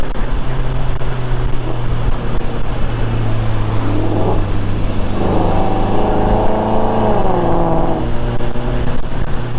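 A Ford Mustang engine roars loudly and continuously from close by, climbing in pitch as it revs hard through a long acceleration before settling again.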